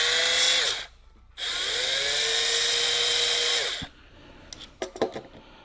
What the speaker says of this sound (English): I'm grinding down the point.